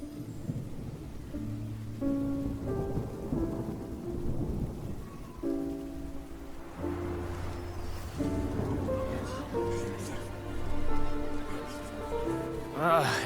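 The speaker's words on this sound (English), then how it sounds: "It's raining again?" Steady rain hisses under a low rumble of thunder in Genshin Impact, mixed with sustained musical tones, continuous and moderately loud throughout.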